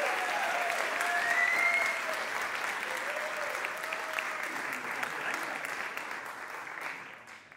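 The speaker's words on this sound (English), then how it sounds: "a big round of applause" A sustained round of audience applause at a marketing conference, steady and dense, gradually tapering toward the end, with a faint voice briefly audible underneath.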